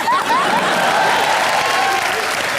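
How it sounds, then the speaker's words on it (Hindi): Loud, steady applause from a comedy show studio audience fills the whole stretch, dense clapping with a faint whoop or two rising above it. "खट्टे के लिए जोरदार तालियां"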